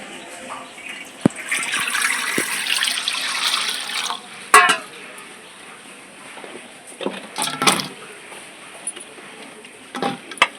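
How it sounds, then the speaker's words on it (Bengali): Okra is washed by hand in water, giving soft splashing and trickling with a few sharper clatters and sloshes, close and fairly quiet. "ঢেঁড়স কিন্তু কাটার আগে ধুয়ে নিতে হয় তাহলে আমি ঢেঁড়সগুলো ধুয়ে নিচ্ছি"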